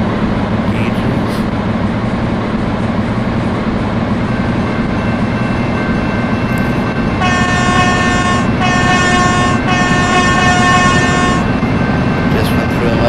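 A Virgin Pendolino class 390 train in a train simulator game runs with a constant loud rumble, then sounds its horn in three long tonal blasts partway through.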